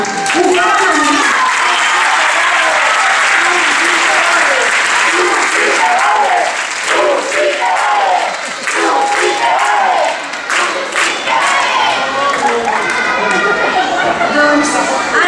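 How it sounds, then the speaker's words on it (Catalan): Loud applause from a school end-of-year festival audience, dense sustained clapping with crowd chatter and shouts mixed in, filling the whole stretch close and continuous. "Un fort aplaudiment!"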